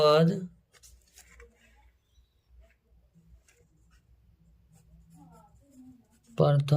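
Pen or chalk writing out a maths question in a class 10 lesson, soft faint scratching strokes in short irregular bursts, with a voice speaking briefly at the start and end.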